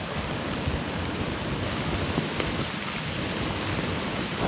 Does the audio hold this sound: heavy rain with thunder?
yes